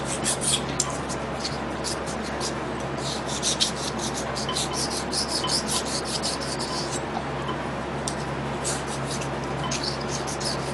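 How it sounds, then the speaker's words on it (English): Hand file deburring the soft edges of copper pieces, a quiet, rapid series of short raspy scraping strokes repeated in a steady back-and-forth rhythm over a low background hum. "Copper is kind of a bugger to deburr with a file too."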